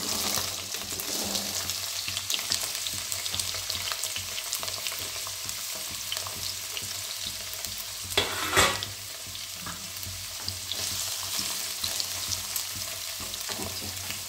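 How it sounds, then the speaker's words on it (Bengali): Diced small potatoes frying in hot mustard oil in a kadai give a steady, dense sizzle throughout, with a brief louder scrape or stir near the middle and no talking. "এবার এই ডাইস করে কাটা 2টো ছোটো আলু নিয়েছি, সেটা আমি ভাজতে দিচ্ছি।"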